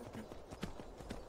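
Faint hoof clip-clops of a horse in Skyrim, in a quick, uneven rhythm, quiet and brief, with a low voice murmuring in the background.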